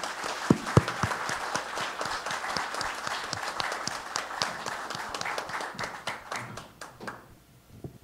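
An audience at an evening literary event breaks into applause, a dense patter of many hands clapping together that holds steady, then thins out and fades toward the end.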